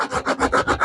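Hand sanding along the edge of a wooden table leg, about six rhythmic rasping strokes back and forth, close and fairly loud with no talk.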